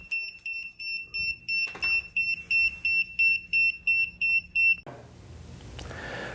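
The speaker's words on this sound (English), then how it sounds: "So that noise means that the battery is about to go dead." A TheraCup cupping and EMS device's low-battery alarm: repeated high-pitched electronic beeps pulse in a steady rhythm, loud and close, then stop abruptly, leaving a low background rumble.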